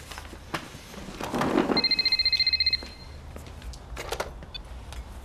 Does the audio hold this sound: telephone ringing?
yes